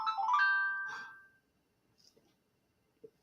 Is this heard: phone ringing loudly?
yes